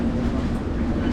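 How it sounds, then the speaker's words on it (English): A London Underground Metropolitan Line train running, heard from on board as a loud, steady rumble with a faint rhythmic rattle and a sustained low whine. "Right, we're on board the tube again now."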